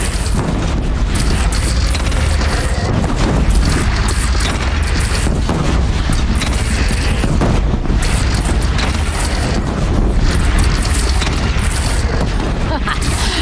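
Heavy cannon booms from an artillery battle in the game Unavowed, deep blasts rolling continuously over a dense, loud roar of battle noise with voices mixed in.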